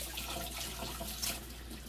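Tap water runs steadily over frozen chicken tenders in a kitchen sink, a soft continuous hiss and splash, close and unbroken, with no voices.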